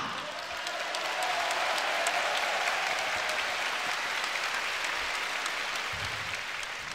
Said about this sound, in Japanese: 試合中はもっと大きな拍手があったということは今全員拍手してないということになりますね。